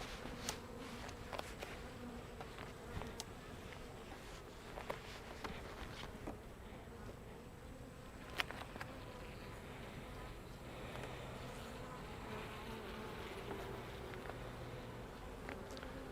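Honey bees buzz in a dense, steady drone while a beehive is opened and inspected, with faint scattered ticks and taps from the frames and no talking.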